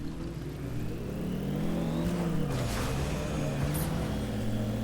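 An electric car in Fortnite speeds up and cruises, its steady whirring drive tone rising and bending in pitch over a constant low hum, fairly loud throughout with no talk.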